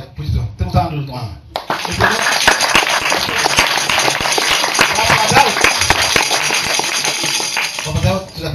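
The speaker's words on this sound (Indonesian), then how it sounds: "Tepuk tangan dulu Tuhan." A crowd at a lively gathering bursts into loud sustained clapping and applause after a short spoken lead-in, with voices audible at the start and end.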